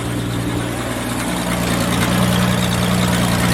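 A 1966 Ford Mustang engine idles steadily just after a fuel pump replacement, a close, continuous low rumble with a faint rise in revs toward the end.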